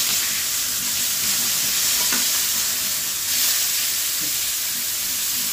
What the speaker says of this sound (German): die Kotelette mal schön anbraten